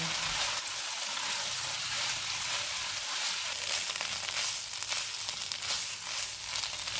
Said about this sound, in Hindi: आलू मैंने 500 ग्राम लेके इनको उबाल के मोटा मोटा मैश कर लिया है। सब्ज़ धनिया डालेंगे। इनको 2 से 3 मिनट तक भूनेंगे।